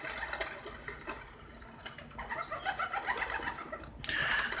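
Pigeons coo in soft, repeated throaty calls at close range, with light rustling and fluttering, and a sharper burst of activity near the end.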